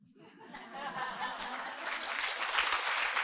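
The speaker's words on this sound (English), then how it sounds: "let us give a big round of applause" Applause rising from an audience at a wellness retreat for a woman just introduced, starting soft and swelling steadily into dense, sustained clapping over a few seconds, with some light laughter mixed in.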